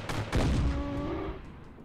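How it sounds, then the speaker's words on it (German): Gunfire in Grass Simulator, cows being shot and blown up: a sharp burst of shots and a booming blast, then a ringing decay over a couple of seconds. "Ich kann nichts anderes machen, als Kühe zerschießen."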